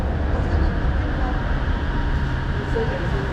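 An LRT light rail train rumbles steadily at an underground station in Malaysia, a constant low roar of moderate loudness with faint higher tones drifting over it.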